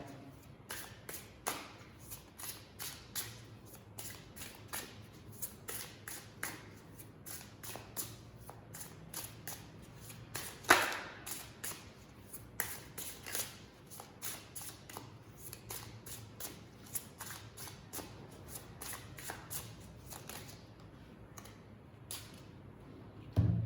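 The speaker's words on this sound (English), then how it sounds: "now let me pick up cards from the romantic tarot" Romantic tarot cards are handled and shuffled for a reading, with continuous soft riffling, flicking and tapping of the deck at close range for over twenty seconds, quiet and with no talk.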